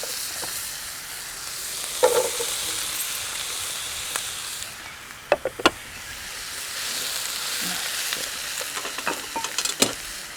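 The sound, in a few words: sauteing green onion and vegetables in a pan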